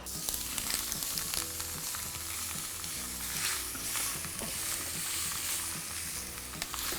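Chicken and kale char-grilling for a chicken kale Caesar salad, crackling and sizzling steadily and close up with dense hiss and small pops, no one talking.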